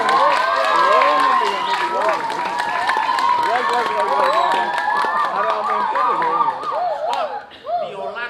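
An audience claps and cheers at a Balinese drama gong performance, dense steady applause mixed with whoops and loud voices over gamelan-like tones, tapering near the end.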